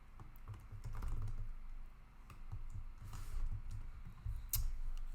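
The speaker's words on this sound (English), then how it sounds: "I'll type into use state here." Keyboard typing while entering code in a React Native project, a steady run of quick, close key clicks and taps with short pauses between bursts, no talking.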